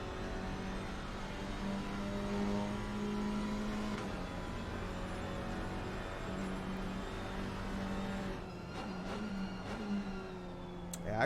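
A GT4 race car engine at Silverstone drones steadily at high revs down the Hangar Straight, a loud continuous tone that drops briefly near the end, as if lifting off the throttle, before building again.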